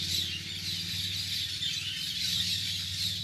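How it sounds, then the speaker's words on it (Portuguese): Birds chirp and sing continuously at a moderate distance over a steady low outdoor hum. "Olha o canto dos pássaros."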